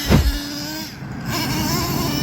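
Nitro-powered Traxxas Revo RC truck engine running slightly loaded up, a brief loud rev at the start dropping to a steady buzzing idle drone, close by and alone.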